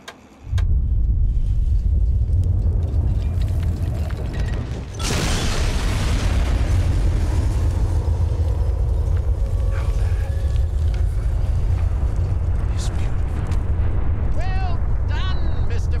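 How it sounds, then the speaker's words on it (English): A huge nuclear bomb detonation in the video game Fallout 3 destroys a city, a deep continuous roar and rumble that swells with a sharp blast burst midway, loud and sustained throughout, with faint talk underneath. "in the game Fallout 3 there's a mission where you're supposed to blow up a whole city with a nuclear bomb"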